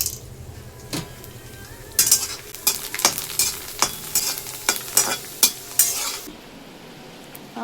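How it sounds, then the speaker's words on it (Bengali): Papad frying in a pan in a home kitchen at night, a soft sizzle under a run of sharp scrapes and clinks as a utensil stirs and knocks against the pan. "পাঁপড় ভাজা"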